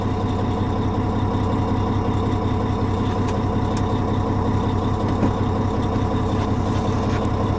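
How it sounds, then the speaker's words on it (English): Volvo D16 diesel truck engine idling with a steady, deep low rumble, close and continuous throughout with no voices. "The D16 sounds a lot different than the smaller engines. You can really feel that low grade, real power feeling to it."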